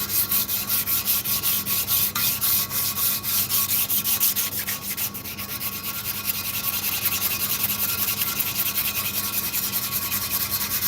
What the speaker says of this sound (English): even that orbital sander he's got in there